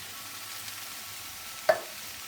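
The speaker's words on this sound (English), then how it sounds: "after a further couple of minutes of frying, you want to add your chopped tomatoes" Soft, steady sizzling of spices frying in a pan for a chicken and chickpea curry as chopped tomatoes go in, with one brief clink of a utensil near the end.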